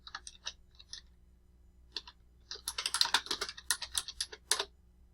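Typing on a computer keyboard: a few sparse, isolated key taps at first, then a quick, dense run of clicking keystrokes, close and clear with no talking.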